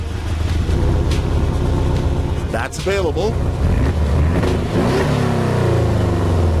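A 2017 Porsche 718 Cayman S engine rumbles and its exhaust revs up loudly, with a brief spoken remark over it.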